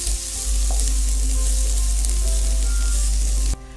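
Garlic and ginger frying with browned onions in a pan for an achari vegetable dish, a loud, steady sizzle with stirring scrapes throughout that cuts off sharply near the end.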